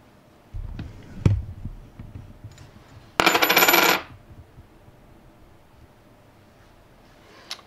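Coins are handled and dropped onto a hard surface in a quiet room, with a couple of light clinks followed by a longer bright metallic jingle and rattle near the mic.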